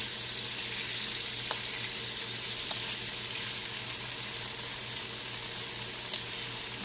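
Pork fries in a pan with a steady, even sizzle, close and continuous, broken by a few small pops and clicks.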